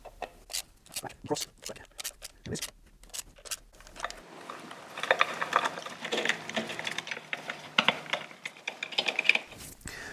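A Torx driver breaks loose the screws on an aluminium derby cover of a Harley-Davidson Milwaukee-Eight Street Glide, giving a run of sharp, close ratcheting clicks followed by softer scraping and handling noise.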